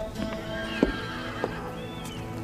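Horses nearby: a couple of short snorts or whinnies over steady outdoor background noise, with faint hoof movement.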